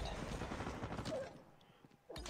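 Distant, faint gunfire from a Call of Duty Mobile team deathmatch on the Crossfire map, a quick clustered burst of shots that fades, then one sharper report near the end.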